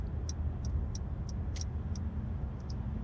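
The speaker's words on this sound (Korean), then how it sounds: "좌측 깜빡이 켜고" A car's left turn signal clicks at a steady, even pace, close and clear over the low hum of the engine and road during night highway driving.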